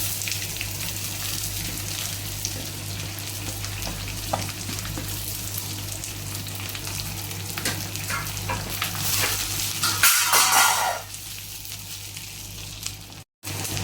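Sliced onions, three of them, sizzle and crackle steadily in a pan for an egg curry while being stirred, with a louder burst of frying and scraping near the end; no talking.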